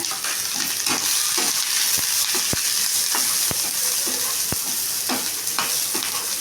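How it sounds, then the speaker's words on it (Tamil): Finely chopped, peeled bottle gourd sautés in a pan for chutney, a steady close sizzle broken by repeated sharp spatula clicks and scraping stirs at irregular intervals. "பச்சை வாசம் போகிற வரைக்கும் இந்த சொரக்காயை நல்லா வணக்கிக்கலாங்க."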